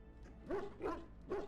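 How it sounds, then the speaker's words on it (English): A dog in the video game Dragon Age: Origins gives three short, soft barks at an even pace, each a quick bow-wow yip, alone against a quiet background. "he's currently barking at the wall"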